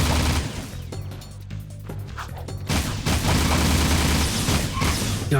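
Rapid, dense gunfire in the video game Jak 2 fills the clip: loud overlapping shots and booms in quick succession over busy game sound, with no clear talk.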